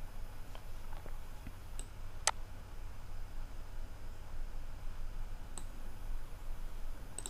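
Quiet, sparse computer mouse clicks during video editing in Filmora, a few sharp isolated taps scattered over a faint hiss, with one louder click standing out.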